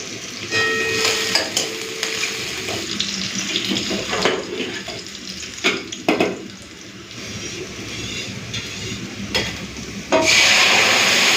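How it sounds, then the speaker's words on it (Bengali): Onion, green chilli and panch phoron hiss and sputter in hot oil in a pan, a loud, steady, close sizzle with a few sharper crackles and clinks. "তেলটা গরম হয়ে গেছে পেঁয়াজ আর কাঁচা লঙ্কাটা প্রথমে দিয়ে দিচ্ছি পাঁচ ফোড়ন দিয়ে দিচ্ছি"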